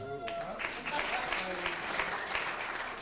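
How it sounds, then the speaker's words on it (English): A comedy show audience breaks into applause, with scattered claps swelling into steady clapping while a voice speaks over the start. "Clap it up if you got kids."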